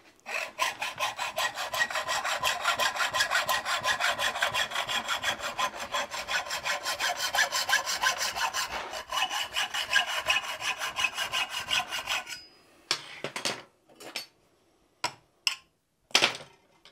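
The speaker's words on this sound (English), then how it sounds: "so I'm gonna have to just saw it with a hacksaw" A hand hacksaw cuts through a metal brake tube in fast, even back-and-forth strokes for about twelve seconds, close and clear, then a few scattered scrapes and knocks.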